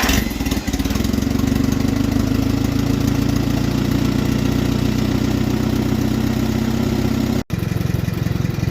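An old 1962 Allis-Chalmers D12 farm tractor engine chugs loudly and steadily at a low idle, its throbbing rhythm running throughout with a brief cut near the end.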